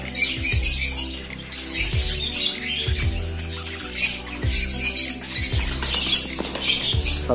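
Pet lovebirds and budgies squawk and chirp busily while pecking at neem leaves, a dense, continuous chatter of sharp calls close by with soft low thumps underneath.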